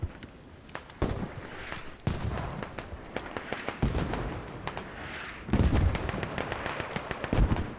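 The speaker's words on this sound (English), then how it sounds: "So with the smoke mortars coming in" Smoke mortar shells bursting in a large infantry battle video game, a string of sharp booming explosions at irregular intervals, some close and loud, others farther off, over a constant rumble of battle.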